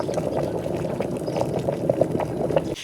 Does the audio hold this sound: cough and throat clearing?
no